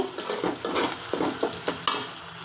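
Onion and garlic fry with salt in a pan, a close, steady sizzle broken by repeated scraping stir strokes, with no talk.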